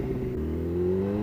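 BMW HP4 motorcycle accelerating through a quick shift, a brief engine drone with a rising pitch that drops and climbs again at the gear change, close by.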